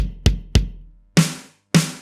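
A close, dry drum kit plays a slow section of a groove with a third bass drum added: three quick low kick thumps in a row, then two cracking snare-style strikes spaced apart, with no talking.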